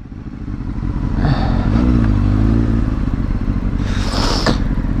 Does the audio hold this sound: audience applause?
no